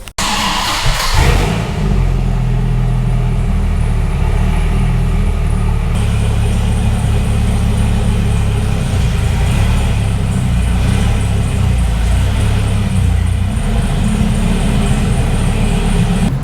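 A Dodge Viper-powered SRT-10 truck engine cranks and catches with a loud burst, then settles into a deep, rumbling idle punctuated by sustained revs, heard up close with no voices.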